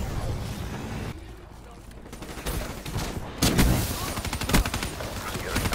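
Rapid bursts of automatic fire from the Dingo gun in Black Ops 3, dense rattling volleys that are loud and continuous, with a brief lull before firing resumes, while a player talks over it.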